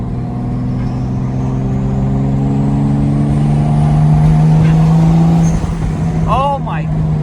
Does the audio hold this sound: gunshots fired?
no